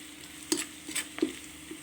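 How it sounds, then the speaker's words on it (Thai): Chillies stir-fry in a hot pan for Thai basil beef, with a soft sizzle under a few scraping stirs of the spatula, close and fairly quiet with no talk. "ตอนนี้เราก็ เอาพริกลงไปผัดนะครับ ให้มันหอมนะครับ"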